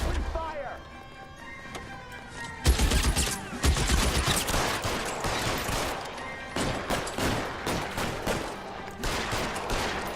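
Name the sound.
gunfire in video game L.A. Noire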